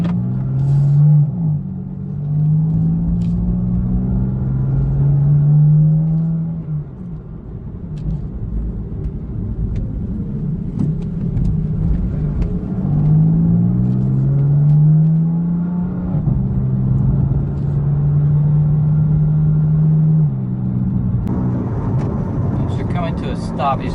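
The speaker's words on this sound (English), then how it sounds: "you slow down, you can hear the engine rev" Engine of a 2016 BMW M4 rising and falling in pitch as it revs while slowing in traffic, heard from inside the cabin as a loud droning hum with repeated upward sweeps under a steady road rumble.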